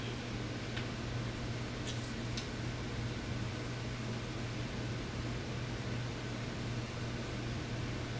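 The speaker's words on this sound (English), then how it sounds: "I forgot I had the air conditioner on, if y'all hear it." Room air conditioner running steadily indoors, a constant low hum and broad airy hiss filling the whole stretch with no voices, a faint tick or two on top.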